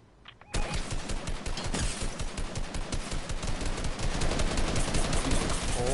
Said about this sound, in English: Cracked, I've just been sniped.